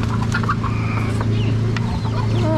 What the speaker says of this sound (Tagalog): Ito lahat yung manok.